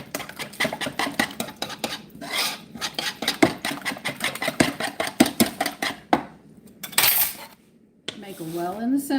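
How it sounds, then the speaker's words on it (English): A whisk beats liquid muffin ingredients in a bowl with rapid, rhythmic metallic clinks and scrapes. It pauses briefly twice before resuming, and a voice speaks near the end. "All the liquids are going to get whisked"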